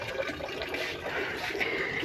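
Water pours steadily into a bucket in an Indian village home, a continuous rushing, splashing stream heard close and alone.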